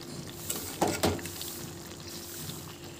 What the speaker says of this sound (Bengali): পরিমাণ মতো জল দিয়ে দেব